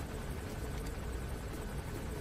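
A helicopter in the video game Metal Gear Solid V: The Phantom Pain gives a continuous, even rotor drone that fills the whole moment, close and steady with no voices over it.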